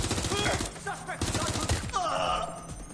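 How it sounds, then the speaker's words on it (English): Rapid gunfire in the video game Watch Dogs Legion, a dense burst of repeated shots over a busy game mix with voices calling out. "Taking fire!"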